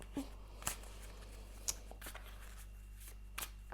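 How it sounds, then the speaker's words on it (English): A tarot deck is shuffled by hand, giving soft, intermittent riffles and crisp card flicks. The sound is close and quiet against a faint low hum. "I'm gonna shuffle and see what the cards have to say"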